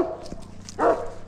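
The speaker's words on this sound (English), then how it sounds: "Romeo seems to be an Anatolian Shepherd" A young Anatolian Shepherd dog gives a couple of short barks and yips close by, the second burst louder and fuller, with light whimpering between them and no one speaking.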